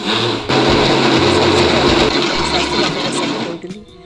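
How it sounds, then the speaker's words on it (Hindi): A mixer grinder grinding rice with a loud, continuous motorized whirring, churning steadily for several seconds, then winding down and stopping near the end. "अब थोड़े थोड़े करके हम चावल को पीस लेते हैं मिक्सी जार में डाल करके।"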